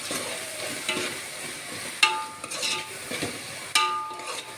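A spoon stirs spices and coriander powder into pulao ingredients frying in oil or ghee in a pot, scraping and clinking against the metal over a steady sizzle, with no talking.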